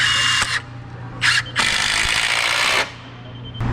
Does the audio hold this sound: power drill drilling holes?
yes